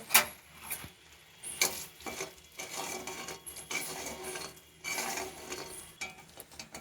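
A utensil stirs and scrapes caramelizing sugar with cardamom and cinnamon in a pan, making repeated close metallic scrapes and clinks in uneven strokes with brief quiet gaps between them.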